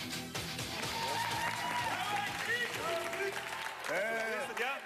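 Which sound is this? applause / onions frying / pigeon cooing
applause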